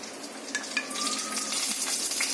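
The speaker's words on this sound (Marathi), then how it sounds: "त्यामध्ये आपण जिरं घालणार आहे फोडणीसाठी" Cumin seeds crackle and sizzle in hot butter and ghee in a kadhai, a steady close frying hiss with light popping, lasting a couple of seconds.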